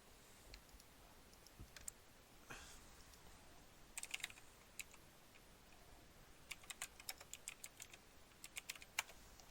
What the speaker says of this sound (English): start typing out what I'm thinking here